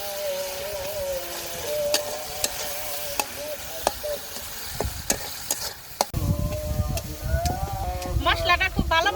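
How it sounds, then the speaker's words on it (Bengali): Ginger and cumin paste is sautéed in a pan in a village kitchen, with repeated sharp spatula clicks and scrapes over a sizzle that grows louder toward the end, and voices in the background. "আদা জিরা বাটা মশলাটা খুব ভালোভাবে কষিয়ে নেই"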